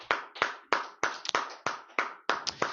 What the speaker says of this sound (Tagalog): Sa malakas na palakpak sa Lord.